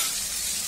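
Chopped green chilies and curry leaves sautéing in hot oil for an Onam ginger curry, a steady close hiss and sizzle with no talk.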